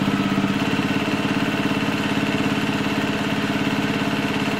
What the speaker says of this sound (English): when I go to sew right along the side of this white binding, right on the edge,